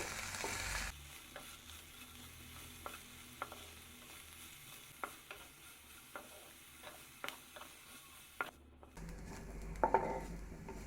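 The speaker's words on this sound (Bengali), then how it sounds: "তেল গরম হয়ে গেলে অ্যাড করে দিচ্ছি কুচি করে কাটা একটি মিডিয়াম সাইজের পেঁয়াজ। ফ্রাই করে নিচ্ছি।" A chopped medium onion fries quietly in hot oil in a pan, a faint low sizzle under sparse spatula taps and scrapes.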